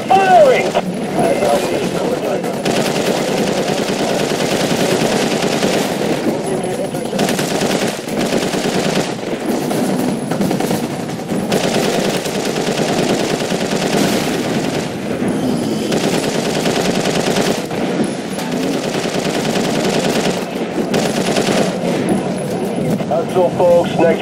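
Rapid, sustained automatic gunfire rattles in the video game Prototype 2, near-constant bursts over about twenty seconds with brief pauses and voices shouting over the shooting.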